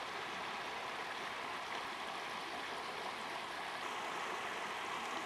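The Fitjaá river flows just below a ford, a steady broad rushing of water heard close and unbroken, with no voices.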